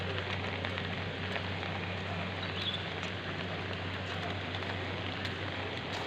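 Steady rain falling on surfaces, a continuous even hiss with dense patter, moderate and unbroken for the whole stretch, no voices.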